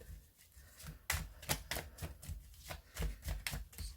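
Tarot cards are shuffled by hand in a string of quick riffling and slapping bursts, close and fairly quiet, with irregular pauses between the flurries.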